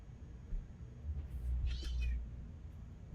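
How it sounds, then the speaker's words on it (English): A pet cat gives a single short meow, faint and somewhat distant against a low background rumble, with no one talking. "She's a little meowy."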